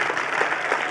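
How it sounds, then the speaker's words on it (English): An audience claps steadily for Michael Tubbs at a Black August event, a dense, continuous wash of applause filling the short moment without any voices. "Clap your hands together for our friend and comrade, Michael Tubbs."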